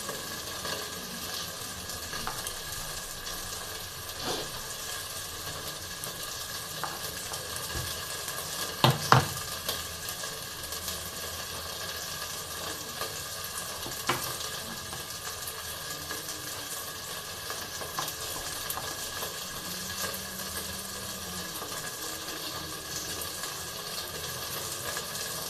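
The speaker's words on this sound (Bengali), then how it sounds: "এবারে এই রসুনের কোয়াগুলো আস্তে আস্তে এর ভিতরে দিয়ে দেবো আমি" Garlic cloves frying in a pan for a Bengali-style minced brinjal dish, a faint steady sizzle with occasional stirring scrapes and a few sharp clinks.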